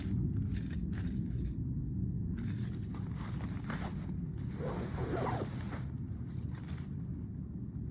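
A tent bag's zipper pulled in a few quick strokes, set against steady wind and broad outdoor rumble; no one speaks.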